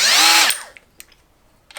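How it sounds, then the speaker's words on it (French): An angle grinder whines loud and close for about half a second, then spins down and stops, leaving a few faint clicks and taps in the quiet. "C'est une meuleuse d'angle."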